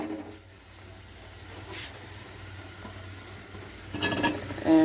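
Brinjals and drumstick stirred into onions, tomatoes and turmeric frying for South Indian sambhar, giving a soft, steady sizzle with scattered scrapes, ending in a louder burst of clinking and hissing.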